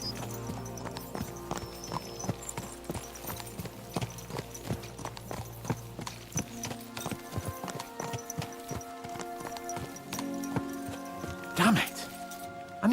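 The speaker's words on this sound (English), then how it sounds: "Let's really spur these horses on, eh?" Horses gallop in the medieval video game Kingdom Come: Deliverance II, their hooves pounding in a quick, steady clip-clop rhythm close by throughout.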